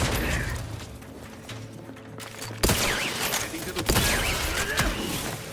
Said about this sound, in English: Is that mech actually shooting at us?